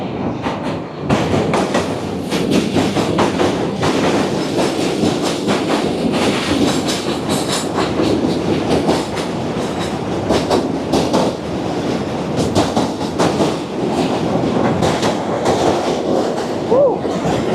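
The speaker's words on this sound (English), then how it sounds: "The whole bridge is vibrating. I think a second train came." A train rumbles across a bridge in Manhattan with steady clickety-clack and rail noise, loud and continuous throughout, on a Sunday walk in winter, with a brief squeal near the end and faint voices underneath.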